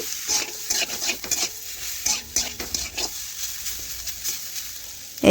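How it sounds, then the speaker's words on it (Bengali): Fried soybean chunks being stirred with turmeric in a pan, with repeated scraping and clinking of a spatula over a soft sizzle, close and fairly quiet. "হলুদটাও নাড়াচাড়া করে মিশিয়ে নিচ্ছি"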